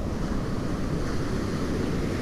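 North Atlantic surf at Smith Point on Long Island, big swells and rollers driven by a distant hurricane, a steady loud wash of breaking waves with wind buffeting the microphone throughout.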